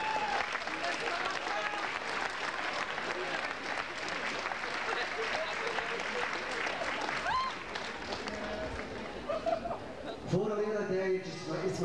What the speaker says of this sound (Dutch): Dames en heren, een applaus voor Serge van Gisteren.